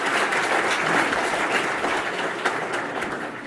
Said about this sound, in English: So if we could do a round of applause to our sponsors as well.